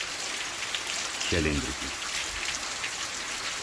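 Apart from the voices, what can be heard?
rain falling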